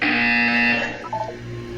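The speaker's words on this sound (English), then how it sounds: "You will hear a buzzer." A harsh electronic buzzer sounds in the video game Portal 2, a loud steady tone with rich overtones held for most of a second before cutting off, leaving quieter game ambience.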